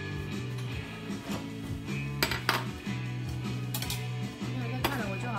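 Cooked millet being scooped out of a pressure cooker, with a steady run of metallic clinks and scrapes of a utensil against the pot over background music.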